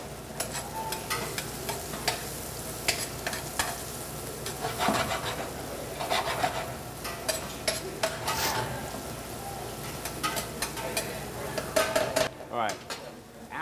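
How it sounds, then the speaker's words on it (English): Harder vegetables sautéing in a pan, a steady close sizzle with frequent scraping and clinking as a utensil stirs against the metal, continuous throughout. "we're going to saute these for about a minute or 2"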